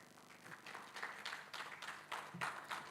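A workshop audience gives soft, scattered applause for Professor Dr. Teresa at an international workshop on water for farming, a quiet, distant patter of clapping with irregular bursts and faint background voices.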